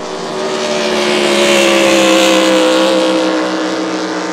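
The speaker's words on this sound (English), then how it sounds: "The other boat on the course, Brian Kilpatrick." A powerful engine roars steadily as a racing motorboat passes on a course, swelling to a loud peak midway and fading again, with no voices.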